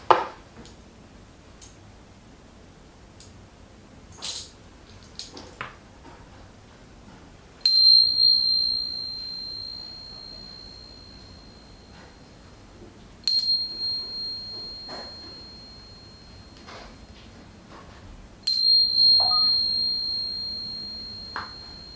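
Shaman's ritual bells rung at a shamanic fortune-telling session, three separate bright shaking jingles each ending in a long sustained ringing tone that slowly fades, with quiet pauses between them and no talking.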